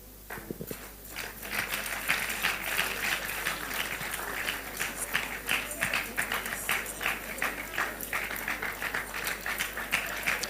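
After a brief quiet start, an audience at a 2023 political gathering breaks into steady, sustained clapping that carries on for several seconds at moderate loudness, with a low constant hum in the background.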